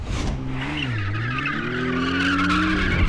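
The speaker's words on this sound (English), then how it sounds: "Yes, this one comes with a spinning rear wheel mode." McLaren Artura Spider with its rear wheels spinning, tyres squealing and skidding loudly and steadily over a rising and falling engine note, close and continuous with no talk.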